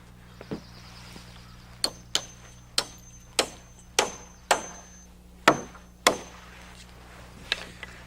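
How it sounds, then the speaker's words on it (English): Hammer blows nailing a permanent wooden sway brace on a house roof frame, about a dozen sharp knocks at an uneven, unhurried pace, fairly close against a quiet background. "To do that, we nail in a permanent sway brace."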